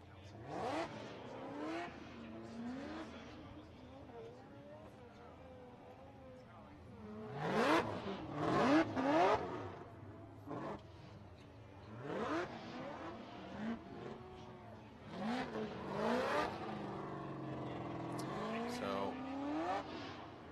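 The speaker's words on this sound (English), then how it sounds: "as they're warming up their tires" Formula Drift Pro 2 cars at the 2019 Orlando round warming their tires before a Top 16 battle, engines revving and rising and falling at a distance in repeated bursts beneath steady commentary voices.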